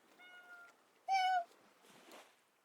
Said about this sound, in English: Could you hear him meow?